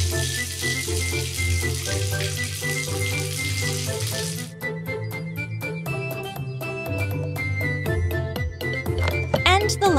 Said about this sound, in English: Wash the foam off with water.